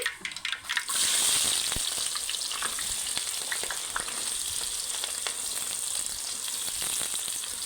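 Steady, loud sizzling of onions frying in hot oil after mustard and cumin seeds, with occasional crackles and stirring, continuous throughout with no talking.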